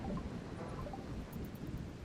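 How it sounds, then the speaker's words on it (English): Thunder from a flash storm in the video game RimWorld rolls as a low, continuous rumble mixed with rain and wind, steady and fairly faint throughout. "Flash storm is over."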